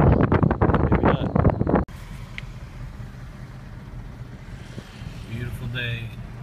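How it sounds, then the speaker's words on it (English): Wind buffets the microphone with a low rumbling roar, first loud and choppy, then a steadier hum from a truck interior, with brief speech, in Pensacola. "Very windy."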